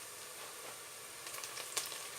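Chopped mushrooms drop into a hot pan for a Turkish pasta dish and sizzle with a soft, hissing crackle, fairly faint and brief, with a few sharper pops near the end.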